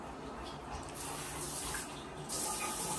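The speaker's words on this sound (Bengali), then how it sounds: "এখন তো কুলফি চলে গেছে পা ধুতে" Water runs steadily from a tap while a pet's feet are washed, a continuous close splashing flow that swells louder near the end, with no talk over it.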